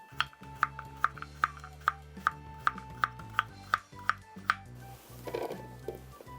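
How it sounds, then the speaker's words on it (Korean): Radish being sliced into thin squares with a kitchen knife on a cutting board, a close, even run of about a dozen crisp chops in quick rhythm before a pause and a soft shuffle. "이렇게 4등분 해서요, 나박썰기로 썰어주면 됩니다."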